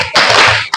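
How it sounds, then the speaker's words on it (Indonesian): A single loud, close burst of hand clapping in a counted clapping game, the fourth clap, sharp and bright, cut off abruptly with a brief tap following. "Dan ini Bu ya, tepuk keempat."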